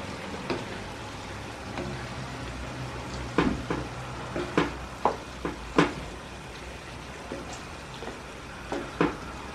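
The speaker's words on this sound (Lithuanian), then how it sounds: "Pastoviai pamaišom." Chicken livers and cucumbers stew in a 24 cm pan as a utensil stirs them, giving a quiet bubbling simmer broken by a run of sharp, irregular scraping and clinking strokes close by.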